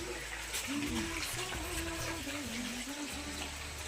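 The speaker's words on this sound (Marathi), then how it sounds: "तर आता मी गोठा धुवून स्वच्छ धुवून घेते." Water splashing and running across a cowshed floor as it is washed out, a continuous faint hiss and gush with a low mechanical hum beneath, heard from close range with no talking.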